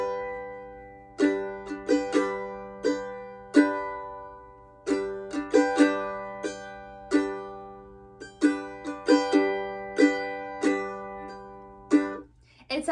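Mandolin strummed in a sixteenth-note bluegrass-style pattern without chop, bright plucked chords in repeating bursts of quick strokes with clear accents, played solo and close.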